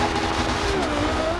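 Engine of a 777 hp Lexus LFA in the racing game Forza Horizon 2, a steady continuous drone with shifting pitch, fairly loud and filling the whole moment with no voices.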